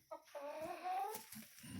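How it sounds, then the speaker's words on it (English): A rooster clucks in short, close bursts while pecking at a hen on a farm, with low scuffling sounds between the calls. "there's that rooster pecking on her"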